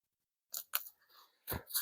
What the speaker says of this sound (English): We'll just cut a little U out of there.